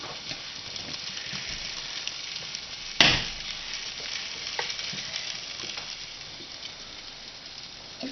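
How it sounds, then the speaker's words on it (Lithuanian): Pancake batter fries in a hot pan with a steady soft sizzle, and a single sharp clatter partway through. "Blina. dabar ten kepa."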